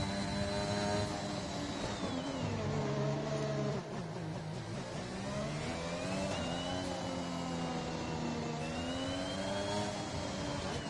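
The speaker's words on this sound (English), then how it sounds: "you listen to the engine note there" A high-revving F1 car engine in the racing game F1 2021 at Singapore whines steadily, its pitch sweeping up and down through gear changes, loud and continuous with no voices.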